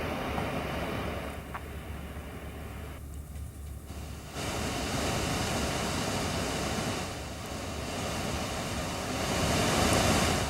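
The flooded Ganges at Haridwar rushes past with a steady, loud roar of churning water, broad and continuous, with wind buffeting the microphone and no voices.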